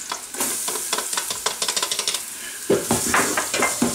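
Garlic sizzles in a hot pan while a utensil stirs it, giving quick close scraping clicks over a steady frying hiss, with a louder burst partway through.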